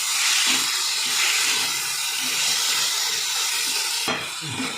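Cowpea pods sauté in a hot pan with a loud, hissing, steamy sizzle, continuous and close, with a sharp flare of hiss near the end as they are stirred.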